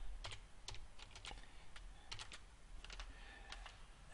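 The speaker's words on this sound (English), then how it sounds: "type the name of the company" Someone types on a computer keyboard while entering a company name in admin software. The keystrokes are quiet, close and irregular, with short bursts of clicks and brief pauses.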